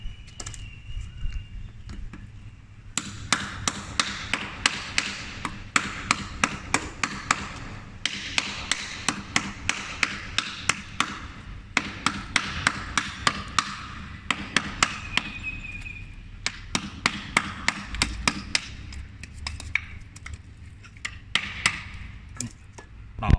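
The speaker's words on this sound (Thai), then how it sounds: "เดี๋ยวต้องตอกตรงหัวเนี่ย ให้มันแตกแล้วมันจะเหลื่อมออกมานะครับ" Repeated sharp hammer taps striking a thin oyster shell to crack it, coming in quick bursts with short pauses between, close and fairly loud.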